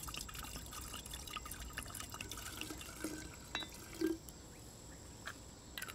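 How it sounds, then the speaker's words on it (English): Spicy red wine, a Shiraz or Syrah, poured into a pitcher, giving a faint, steady liquid trickle with a few soft drips and clinks, heard close and alone. "So start with the wine."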